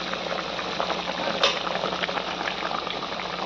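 Chicken curry simmers in a pot with a steady, close bubbling and gentle popping, continuous and fairly quiet with one brief sharper splutter.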